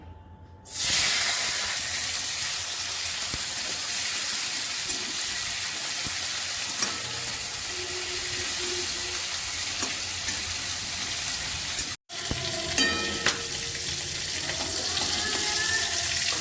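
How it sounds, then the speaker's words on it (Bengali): Prawns fry in hot oil in a pan, giving a loud, steady hiss and sizzle that starts abruptly, holds for many seconds, then breaks briefly before a few light stirring taps. "প্রথমেই চিংড়ি মাছগুলো ভেজে নিচ্ছি।"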